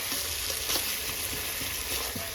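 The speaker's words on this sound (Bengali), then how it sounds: "মাংস কষাচ্ছি।" Meat frying in oil in a pan while being stirred, giving a steady close sizzle with soft scraping and clinks of the spatula, no talk.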